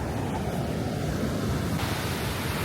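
Ocean surf at Rio de Janeiro rushes in a continuous broad wash, loud and close, with wind buffeting the microphone and no talk.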